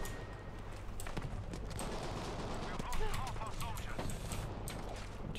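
Gunshots in the video game Battlefield V, a steady stream of sharp cracks and bursts of fire over background battle noise, with game voices and player chatter layered underneath.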